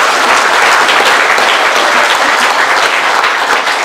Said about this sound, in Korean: 박수 치셨습니까? 박수 세게.